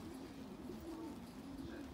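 Soft, low cooing of racing pigeons repeats in murmuring phrases, fairly close but quiet, with faint background noise and a hint of talk.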